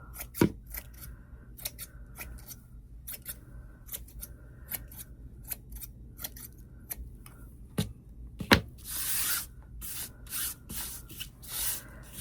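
Quick sharp snips of scissors cutting fabric, irregular and close, some in rapid bursts, followed by soft rustling of material near the end.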